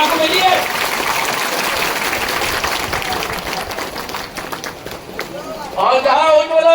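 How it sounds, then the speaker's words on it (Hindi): Women clapping at a political rally, a steady dense patter of applause under loud, continuous speech from a man addressing the crowd, with brief crowd noise swelling near the end. "मेरी महिलाएं ताली बजा रही है"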